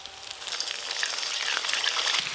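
Sour yogurt hits a hot pan of frying onion, ginger and garlic masala for doi katla, giving a loud, dense sizzle that holds steady and close for a couple of seconds.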